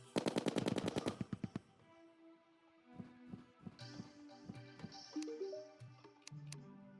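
Hellstorm gun firing in Terraria Calamity: a rapid, evenly spaced burst of loud shots lasting over a second, followed by quieter tonal game effects and chimes.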